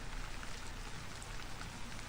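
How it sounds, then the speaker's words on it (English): Steady, fairly faint rainfall from the film Forrest Gump, a continuous patter of drops on surfaces with no voices over it. "One day, it started raining, and it didn't quit for 4 months."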